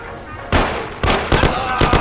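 Gunshots fire in a shootout in the video game Mafia: The City of Lost Heaven, loud sharp bursts arriving in several close clusters over a steady noisy background.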